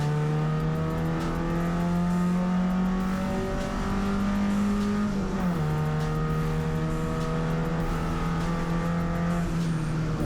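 Race car engine in a road-racing event, revving steadily then dipping with a gear change midway before climbing again as it drives through corners toward a bridge in fourth gear; loud, continuous and close, with no talking.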